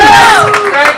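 A crowd at a 2015 suicide prevention fundraiser with music cheers loudly for the host, a short burst of whoops and shouts close by.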